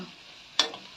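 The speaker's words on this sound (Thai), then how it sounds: "ทำผัดกะเพราไก่จ้า" Chicken with holy basil is stir-fried in a wok, with a low sizzle and one sharp metallic clank of the spatula against the pan.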